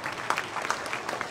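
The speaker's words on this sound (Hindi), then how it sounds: "उसके लिए तालियां।" A short burst of audience applause at an arts council comedy event in Karachi, scattered clapping heard briefly and at a moderate distance.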